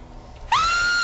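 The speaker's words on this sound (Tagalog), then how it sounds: "Tapos biglang titili." A woman lets out a sudden high scream in a radio horror drama, cutting in sharply after a quiet moment and holding loud and sustained to the end.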